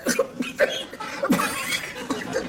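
A woman in a sitcom scene chokes on a piece of lettuce and has a coughing fit, giving a quick series of harsh, uneven coughs close by, with no speech.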